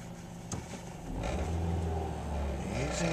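A turbocharged drag race car sits at the line at its very first drag race, its engine droning and revving steadily and loudly close by, swelling and building after the first second.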